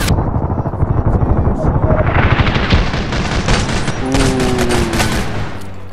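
Colt IAR rifle fire in the Contract Wars shooter game, a dense, loud stream of rapid automatic shots running throughout, with a steady background bed of music or engine-like drone and a brief tonal whine near the end.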